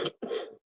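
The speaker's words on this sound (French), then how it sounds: "je sais que c'est désagréable de se faire tousser dessus" A single sharp cough, then a longer rougher second cough or throat-clearing burst, both close and fairly loud, followed by silence.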